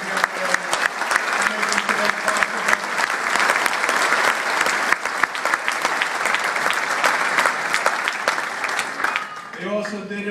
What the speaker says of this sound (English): let's give that support structure a round of applause